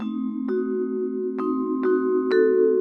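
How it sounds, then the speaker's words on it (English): Vibraphone sounding diminished chords in a spy-mystery style, four soft mallet strikes spaced about half a second to a second apart over sustained ringing tones, clear and alone with no talk. "That's a vibraphone playing diminished chords there."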